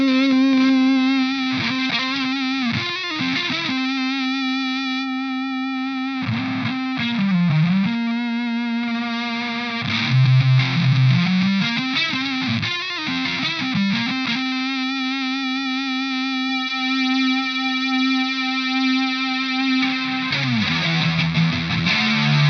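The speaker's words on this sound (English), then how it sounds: "So let's just hear the fuzz, and I'll blend in those detuned voices." Eventide H9 pedal fuzz tone with detuned pitch voices and delay, a dense distorted guitar sustaining long chorused notes with sliding bends and echoing repeats, loud and alone.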